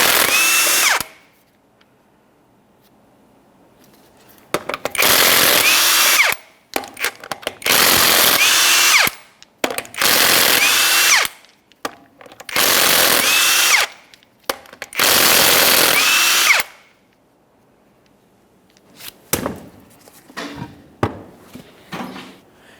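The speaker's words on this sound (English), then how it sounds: "Now that exposes our 6 21mm lug nuts. Let's remove all those so we can remove our wheel." Impact wrench on a 2004-2008 Ford F-150 spinning off six 21mm lug nuts from a wheel, loud close bursts of whirring and hammering, each lasting a second or two with pauses between, ending in small clanks.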